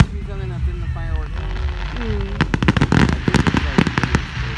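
Fireworks at a show pop and crackle in rapid, loud bursts of sharp cracks after an opening of whistling and squealing rockets, with voices audible underneath.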